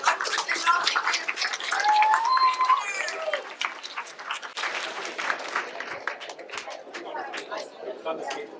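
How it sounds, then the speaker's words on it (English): A crowd at a school science fair claps for Taylor Sweet, loud at first and then thinning into scattered claps, with children's chatter and shouts mixed in throughout. "give us a big round of applause to Taylor Sweet"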